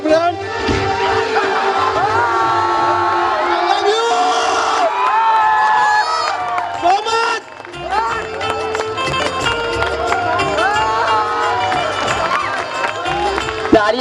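Students at a school farewell party clap and cheer over loud playing music, with shouts and whoops rising from the crowd and a brief drop partway through.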